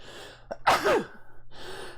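A single sharp sneeze, close and sudden, preceded by a quick inhale, then quiet breathing.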